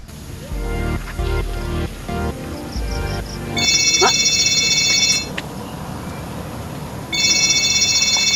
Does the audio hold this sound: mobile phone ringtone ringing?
yes